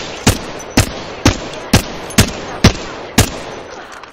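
Gunfire in Apex Legends, a series of seven sharp single shots at an even half-second pace, crisp and close over steady background noise.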